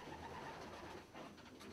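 Bohemian tiger swallow and fairy swallow pigeons coo softly in a loft, a faint, brief murmur of bird calls over a low background hum.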